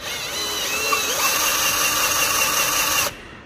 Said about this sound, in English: get a drill bit that's a bit smaller than the hole, put some sandpaper on it, and just start drilling